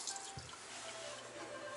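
A washbasin tap runs in a public restroom, giving a soft, even hiss of water that stays constant and fairly faint throughout the short stretch.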